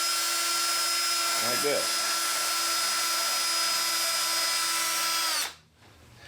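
A carbide bit spun in a drill reams out an insert during a 460 engine refresh for a 1980 F-350 service truck, a steady high-pitched whine for about five seconds before cutting off, with a brief spoken phrase over it.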